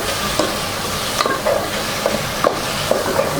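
Ingredients for a restaurant-style Chinese chicken dish are stirred and mixed in a sizzling pan, with a steady frying hiss broken by repeated soft scraping strokes of the spoon, close up and with no talking.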